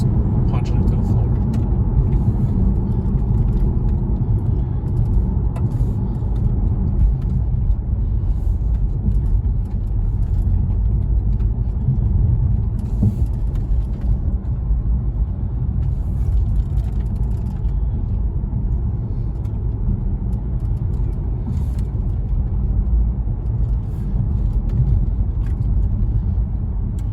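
A 2012 Mercedes S63 AMG accelerates at full throttle from inside the cabin. It gives a steady, heavy low rumble with road noise that holds for the whole stretch, under occasional talk.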